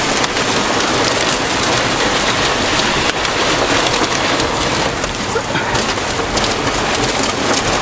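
Heavy rain pounds down in a dense, constant roar, with hard pelting that fits a hailstorm hammering surfaces nearby.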